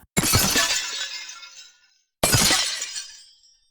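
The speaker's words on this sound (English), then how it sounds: "on top of that I have these ice impact hit sounds," Two sharp, icy shattering impacts from a video game sound effect, each a bright crash of splintering fragments that rings out and decays over about a second and a half.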